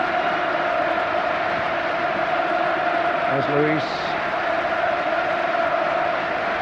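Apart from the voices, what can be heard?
40,000 football crowd roaring at Old Trafford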